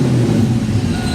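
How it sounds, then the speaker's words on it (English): A Ford Foxbody's 347 V8 runs with a steady, low, rumbling drone close by, after an oil pump swap and on 5W30 oil, with no distinct rise in revs over the brief moment. "Give it a little bit of a rev."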